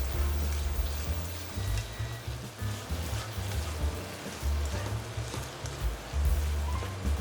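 Mushrooms frying in a pan with a sauce for a Lo Mai Gai sticky rice filling give a steady, close sizzle and crackle, with low thumps that suggest stirring.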